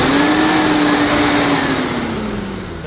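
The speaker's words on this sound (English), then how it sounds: "The fan clutch is locking up. You can hear it cold." Engine of a 1967 C2 car running cold with its fan clutch locking up: a steady, loud whirring drone with a sustained tone that sags slightly in pitch and fades a little toward the end, with no talk.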